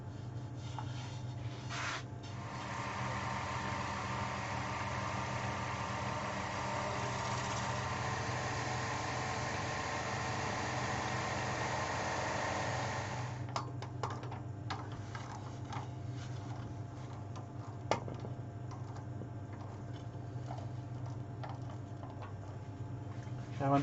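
A 10mm bowl gouge with a traditional grind cuts a sycamore platter spinning on a lathe, giving a steady, soft scraping hiss over a low motor hum that changes in texture partway through, with a few faint clicks.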